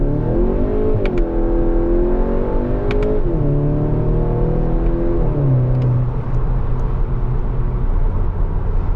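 A Skoda Octavia RS 245 engine drops through the gears from third to second to first, its pitch falling and rising again with each change, loud and steady throughout.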